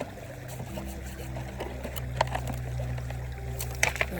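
Water sloshing and trickling as material is washed in a gold pan at Rogers Grove, with continuous swirling water, gritty rattles and a few sharp clinks, close and moderately loud.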